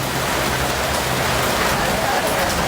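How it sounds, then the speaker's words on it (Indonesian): Steady, dense rain pours down close by as an unbroken hiss, with a person's voice faintly beneath it. "Hujannya lama banget ya."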